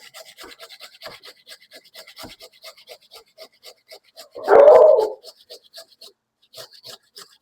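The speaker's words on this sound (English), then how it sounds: "So it says just grate up 2-3 cups of carrots" Carrots for a carrot cake grated by hand in a kitchen make a steady rhythm of short, close rasping strokes. A brief louder burst from a dog cuts in midway, then the grating continues.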